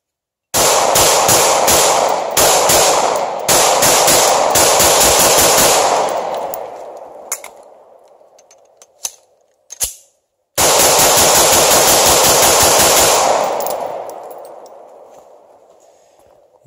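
A Glock 19 pistol fires steel-cased ammunition outdoors in two rapid strings of loud, closely spaced shots, each burst trailing off in echo, with a couple of isolated shots between them.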